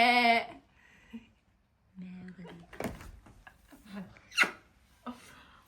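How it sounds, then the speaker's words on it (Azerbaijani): A single short, loud sheep bleat opens, followed by people talking casually in a home setting with light knocks and shuffling. "Qoyundur o, qoyun."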